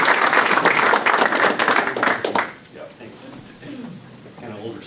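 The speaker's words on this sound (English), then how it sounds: "Let's give a round of applause." Loud, full audience applause greeting a speaker at a chapter event on ESOPs, a dense burst of clapping that stops abruptly and gives way to speech.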